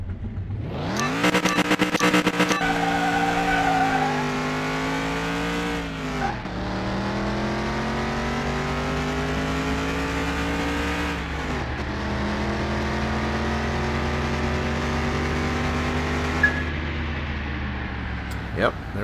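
A car engine in Car Mechanic Simulator 2021 revs hard through several rising gear pulls, each climb cut by a brief drop at a shift. It runs loud and steady throughout, with a faint voice underneath.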